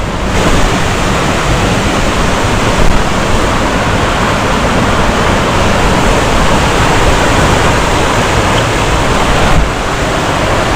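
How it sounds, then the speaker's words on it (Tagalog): A waterfall in Infanta, Quezon roars in a steady, loud, broadband rush that continues without pause, close and enveloping, with no talking. "Ito na, narinig ko yung falls."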